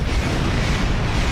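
Torpedo fired and detonating in a Star Trek starship combat game, a loud, dense low-end roar and rumble that holds steady without a sharp attack, heavy and booming.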